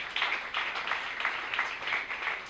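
A church congregation applauds during a Sunday service, producing a soft, steady patter of many hands clapping at a distance for a few seconds.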